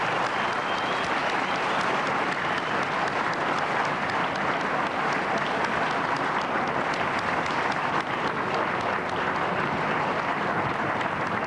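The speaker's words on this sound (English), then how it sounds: "I'd like you all to join with me in giving Darren a big round of applause." Sustained audience applause fills a hall, a dense, even roar of many clapping hands that holds steady and loud for over ten seconds without letting up or any voices.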